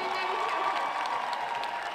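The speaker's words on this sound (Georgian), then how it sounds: "აპლოდისმენტები მას" Applause and cheering from an audience for a children's ensemble at a student days event, a dense, even clatter of clapping that lasts the full two seconds with crowd noise mixed in.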